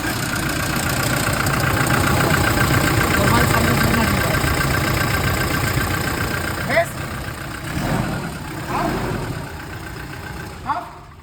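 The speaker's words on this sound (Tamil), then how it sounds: "ஸோ டைமிங்கோட நாய்ஸ் வருது." A 2018 Toyota Innova Crysta with about 200,000 km on it idles with timing chain noise, a steady loud engine clatter and rattle that fades a little toward the end, broken by a few sharp clicks.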